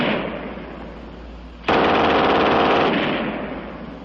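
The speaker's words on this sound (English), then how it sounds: "And last, the German 42 on the tripod." A German MG 42 machine gun mounted on a tripod fires one long, very loud continuous burst, its rapid hammering roar cutting in abruptly and holding steady for over a second before trailing off into echo.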